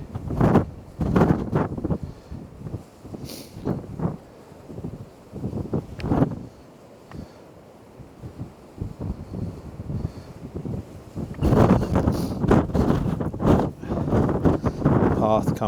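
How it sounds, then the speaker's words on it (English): Outdoor wind on a blustery day buffets the microphone in loud, uneven gusts, easing off briefly midway before rushing back strongly; a voice speaks between the blasts. "That's a windy day."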